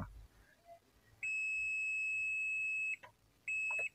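A multimeter's continuity buzzer beeps twice nearby during a speaker repair, a high electronic tone: first a long steady beep of nearly two seconds, then a shorter one, over a quiet background.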